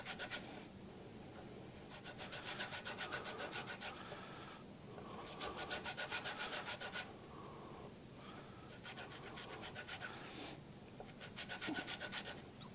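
A rasp grater scrapes in repeated rhythmic bursts of dry rasping strokes, close up and moderately loud, with brief pauses between passes and no talking.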